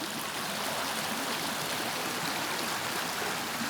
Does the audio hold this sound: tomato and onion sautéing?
no